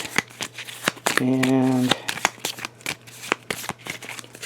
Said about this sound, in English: Then we're going to take this card, this summons card, put that on here, shuffle it up again,